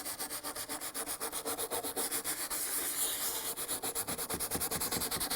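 A brush scrubs the dirty carbide tips of a saw blade in sudsy cleaner: quick, regular back-and-forth rubbing strokes, close and continuous, with no talking.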